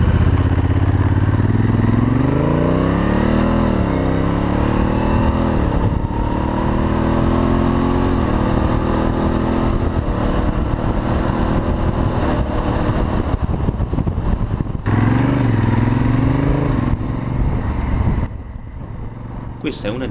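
A Honda Africa Twin motorcycle accelerates hard in sport mode, its engine climbing through the revs in several rising pulls with brief gear-change dips, loud and close under wind noise, easing off near the end.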